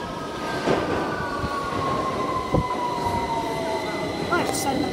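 A London Underground Victoria Line train runs at platform 4 of King's Cross St Pancras, with a steady rumble, sustained motor whine and occasional sharp wheel clanks and squeals, close and continuous.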